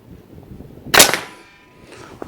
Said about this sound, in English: Let me shoot it one more time.